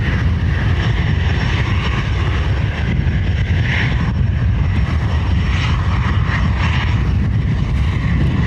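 Emirates airliner on final approach at Dublin Airport, a loud sustained jet engine roar with wind buffeting the microphone, steady and continuous without speech.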